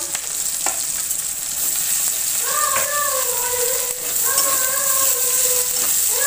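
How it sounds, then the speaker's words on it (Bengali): Garlic frying in oil in a pan alongside onion gives a steady, close sizzle throughout, with a couple of higher whining, meow-like tones rising over it midway. "রসুনটা একটু ভালো করে এবারে কষে নিই"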